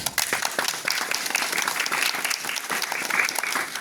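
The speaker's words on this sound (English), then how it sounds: "can we have a round of clap?" Enthusiastic audience applause at a ceremony for young astronomy competition winners, dense continuous clapping from many hands, close and loud throughout with no talking.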